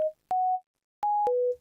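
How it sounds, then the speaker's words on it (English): A few clean, pure synth tones, each a steady sine-like pitch with a soft onset, played one after another with short gaps and no other sound. "silly music can use super simple synth and sound design"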